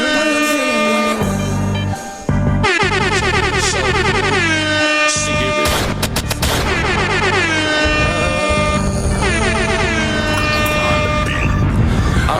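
A hip-hop track plays loud and dense, with booming bass, rapid vocal-like melodic lines and an air-horn style blast near the start, continuous throughout with a brief dip around two seconds.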